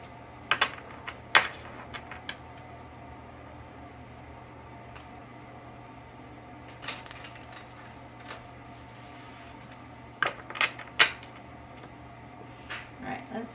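A large tarot deck is shuffled in small hands, giving sporadic bursts of card riffling and flicking at the start, middle and end, with quiet stretches between and a faint steady hum underneath.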